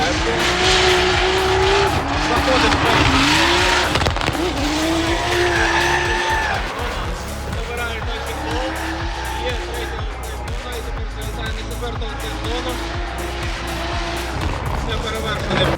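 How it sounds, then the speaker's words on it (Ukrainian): Drift cars on a new race track slide with loud, continuous tire squeal and roaring engines, revs rising and falling through long skids, while people talk over the noise. "Вот это вот дрифт. Вот это дрифт."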